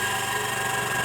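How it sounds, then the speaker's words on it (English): A small airbrush air compressor runs just after being switched on, a steady, even motor hum and buzz with a constant drone throughout, close and moderately loud. "So I'll switch the compressor on, and as you can see, it gets up to pressure pretty quick"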